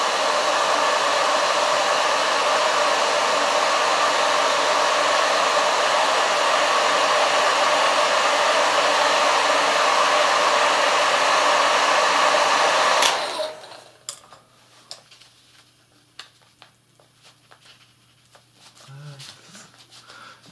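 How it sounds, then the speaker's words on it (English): A hair dryer blows a loud, steady rushing roar for about thirteen seconds while someone works on a ZX Spectrum 48K keyboard, then switches off, leaving faint handling clicks and a low hum. "please excuse the noise from the hairdryer."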